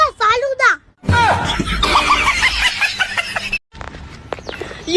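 A hen clucks in short bursts alongside chatter and laughter in a comedy scene, with voices talking over and between the calls.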